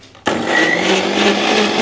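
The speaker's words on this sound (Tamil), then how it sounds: "இது மாதிரி மிக்சியில் போட்டு அரைச்சி" A kitchen mixer grinder switches on abruptly and whirs loudly as it grinds cucumber, a steady close-up motor roar with a high whine that holds to the end.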